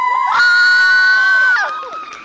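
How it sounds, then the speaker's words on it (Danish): About 400 women and girls scream together at a talent show audition, a loud, piercing, sustained shriek that holds for over a second and then trails off into scattered cries. "så nu er 400 kvinder og piger, de skal begynde at skrige."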